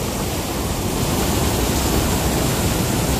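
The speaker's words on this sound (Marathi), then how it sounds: "खळखळून वाहणारा हा बंधारा" Water rushing steadily over the Vazhar weir on the Yerala river in Khanapur, Sangli, a loud, continuous broadband roar of churning flow with no pauses.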